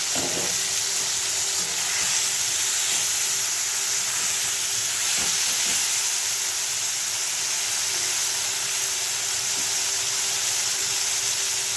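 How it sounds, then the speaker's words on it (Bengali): Brinjal fries in a covered pan for a moong dal dish, giving a steady, even hiss of sizzling that holds at the same level throughout with no voices. "এইভাবে আমি ঢাকনা চাপা দিয়ে বেগুনটাকে একটু ভেজে নেব"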